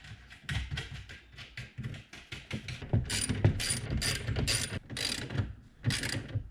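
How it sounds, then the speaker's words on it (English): A ratchet wrench clicks rapidly in repeated bursts while tightening three plastic-mounted nuts on a 2016-or-later Chevy Malibu tail light assembly, close-up and fairly quiet with short pauses between strokes. "Next, just attach those three nuts."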